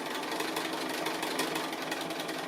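A sewing machine runs steadily while stitching quilt blocks at a medium stitch length with white thread, a continuous dense mechanical whir throughout with no pauses, no voices.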